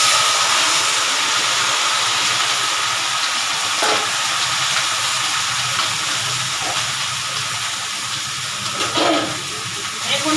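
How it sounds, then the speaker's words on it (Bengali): Vegetables frying in a wok with panch phoron, a steady broadband sizzle and hiss held through the whole stretch at moderate loudness, with a few brief clatters of stirring. "এখন আমি এই সবজি দিয়ে দিতেছি কড়াইতে।"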